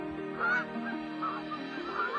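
Migrating geese honk repeatedly in a steady, overlapping chorus, the calls clear and fairly close, with no talking.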